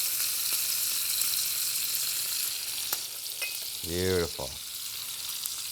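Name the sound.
butter sizzling in a hot pan with sirloin steaks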